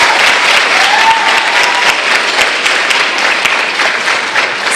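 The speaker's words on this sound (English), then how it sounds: "So a big round of applause for him too." Audience applause at a junior high school spring band concert, a dense, steady clapping from a full crowd sustained for the whole stretch at close, loud level with no talk.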